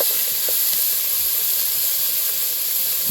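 Green chillies, raisins and cashews sizzle in hot ghee, a loud, steady, close hiss that runs unbroken throughout with no voices.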